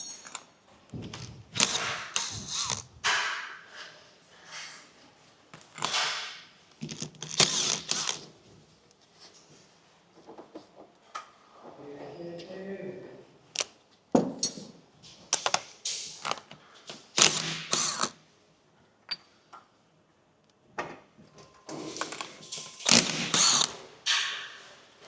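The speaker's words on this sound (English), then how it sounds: "let's pull these valves out" Metallic clicks, rattles and clacks from pulling valves out of an Audi RS4 engine head, in irregular bursts with quiet gaps, close by and fairly loud, no talking.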